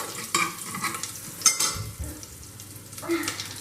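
Cumin seeds sizzle in hot oil in a pan while a spoon stirs them, giving a steady close frying hiss with scraping strokes and a few light metallic clinks.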